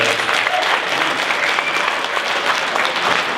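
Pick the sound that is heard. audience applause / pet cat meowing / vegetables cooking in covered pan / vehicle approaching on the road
audience applause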